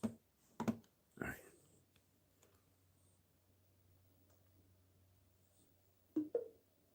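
Someone types a password on a computer keyboard: a few sharp key clicks and clatters near the start, a long quiet stretch with faint hum, then two more clicks at the end.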